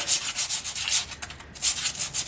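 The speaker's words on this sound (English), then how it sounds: "give this a little light sanding" Light sanding on a 2013 Ford F-150 during a front wheel hub replacement, a soft rhythmic rubbing hiss in short back-and-forth strokes with a brief pause midway, close up and steady.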